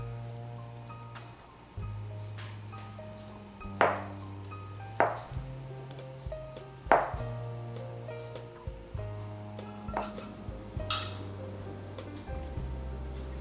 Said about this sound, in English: dice 1/4 to 1/3 can of Spam, depending on how much you want, or you can use any meat of your choice